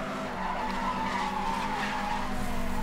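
A car drifts with a sustained tire skid in Need for Speed Hot Pursuit, a steady squealing screech over engine drone lasting a few seconds, with no talk.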